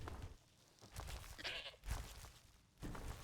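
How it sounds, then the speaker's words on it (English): A goat in the video game Skyrim gives several short bleats spaced a second or so apart, faint and somewhat close, with no speech. "Silly little goat."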